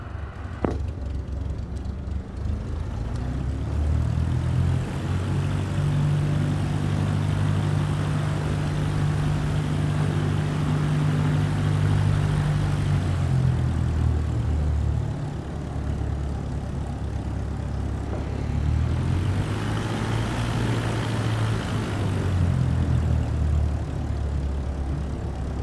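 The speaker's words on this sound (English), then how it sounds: "Now slowly taxi onto the runway and align the plane with the center line." Propeller airplane taxiing onto a runway in a flight simulator video game: a steady, loud engine drone with a low rumbling hum that rises and dips as the throttle changes, continuous throughout with no talking.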